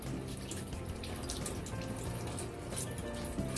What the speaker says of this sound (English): You gotta poke it right here for the water to flow out like that, for a beautiful fountain.